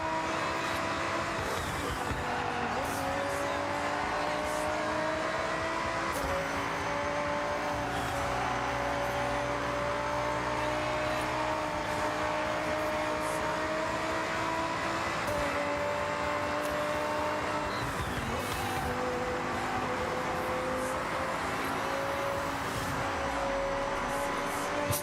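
Racing video game car engine drones steadily and loudly throughout, a sustained harmonic whine that shifts pitch slightly with gear changes, with no talk over it.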